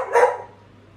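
A single short Beagle bark from inside a bathroom, close and fairly loud, fading quickly into quiet.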